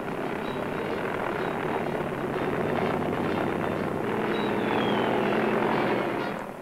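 A helicopter flying over a reed-covered plain in a wartime Vietnam newsreel, its rotor and engine forming a steady, loud drone that holds throughout with no voices.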